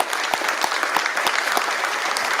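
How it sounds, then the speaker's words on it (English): An audience at an economic development bill signing by a West Virginia governor claps in steady, dense applause, close and continuous throughout. "Round of applause for Curtis."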